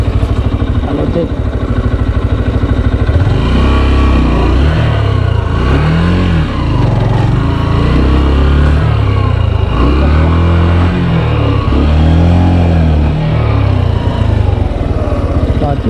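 A motorcycle engine runs loudly and continuously nearby outside a hotel in Piriápolis, Uruguay, with repeated revving swells rising and falling throughout.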